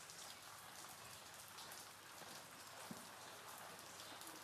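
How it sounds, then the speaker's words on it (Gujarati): Steady rain falls on a village during the monsoon, a dense, even hiss of drops striking surfaces that continues without a break, with a faint single tap standing out partway through. "અને વરસાદ તો બંધ થવાનું નામ જ નથી લેતો."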